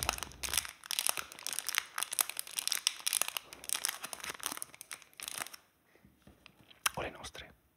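Crinkly foil wrapper of a Magic: The Gathering Phyrexia booster pack being torn and handled close up, a run of sharp crackles and rips that thins out near the end, with soft whispered talk around it.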